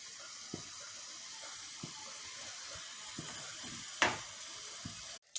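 Maggi noodles boiling in a pot, a soft continuous bubbling hiss with scattered low pops and one brief louder clatter near the end, fairly quiet and close.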